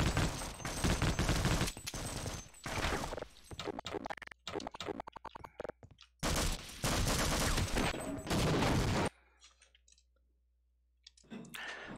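Machine gun fire in Half-Life: Opposing Force, loud rapid bursts of shots in several volleys separated by short gaps, then falling to quiet with faint clicks.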